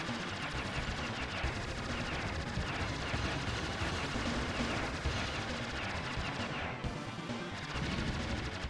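Rapid, continuous arcade shooting from the Aero Fighters video game played on an Xbox Series X, a dense unbroken barrage of gunfire and explosions running loud throughout.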